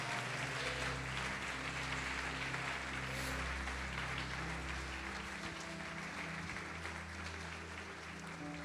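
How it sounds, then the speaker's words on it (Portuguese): A church congregation gives a sustained round of applause in praise, a soft, fairly distant and even wash of clapping that continues for several seconds with a low hum beneath. "Pode aplaudir o Senhor Jesus e glorificar."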